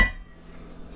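A cast iron pan set down, a single metallic clunk at the start ringing briefly and fading into quiet.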